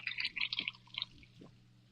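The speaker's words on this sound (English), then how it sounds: "And now I add the cream." Cream poured into a pan holding peppercorns and mustard, giving a soft liquid trickle and a couple of low drip-like splashes, close by and fairly quiet, with no talking.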